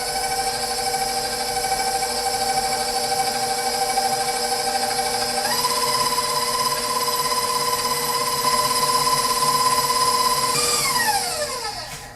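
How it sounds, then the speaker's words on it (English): A stand mixer with a whisk attachment creaming butter and sugar for snickerdoodle dough, a steady loud motor whine that shifts pitch partway through and winds down at the end, with no talking. "You're going to want to use a whisk attachment since you're working with butter and sugar because we're trying to incorporate air."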